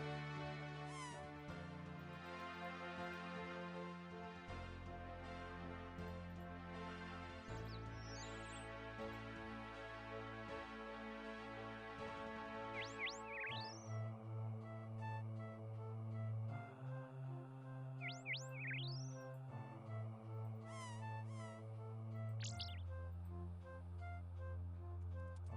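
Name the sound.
kittens mewing nearby, Old School RuneScape video game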